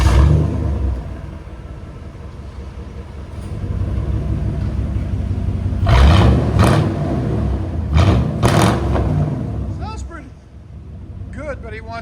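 A 1999 Chevy Tahoe with a 5.7L V8 and true dual straight pipes rumbles loudly at idle up close, then barks through several sharp revs before settling back, with voices talking over it.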